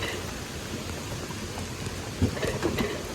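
Heavy rain pours down during a ride on a mountain coaster, a dense steady hiss of downpour close around the rider, with a few louder splashes near the end.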